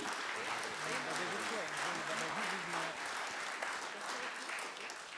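Council debate attendees in Sluis applaud the local politicians with steady, moderately faint clapping across the room while a voice talks over it.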